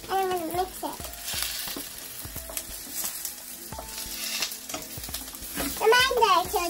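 Pork belly frying in a pan while being stirred, a bright sizzle broken by scraping and clacking utensil strokes, with a voice and other chatter faintly over it.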